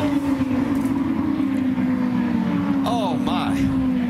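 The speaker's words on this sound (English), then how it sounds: "Trouble, contact, and a huge crash. Up in turn number 2. Oh, multiple cars involved." IndyCar race at speed with a multi-car crash in turn 2: a loud sustained engine drone holds steady throughout, joined near the end by sharp sweeping tones, with an announcer talking over it.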